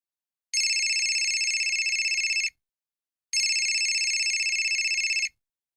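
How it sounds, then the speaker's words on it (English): A phone rings in two long electronic trills separated by a short silence, loud and close, with nothing else audible. "My mobile phone rang and I jumped out of bed."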